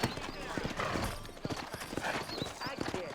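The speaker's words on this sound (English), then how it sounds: "You ain't gonna find sturdier horses than these in all of New Ulster." Horse hooves clip-clop steadily in the Red Dead Redemption video game, a busy rhythmic clatter of several horses close by, with talk, snorts and whinnies mixed in.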